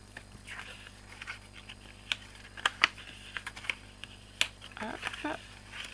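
Paper being folded and creased for a scrapbooking project, with soft rustles, taps and sharp crinkles scattered irregularly at close range, while a person speaks quietly alongside.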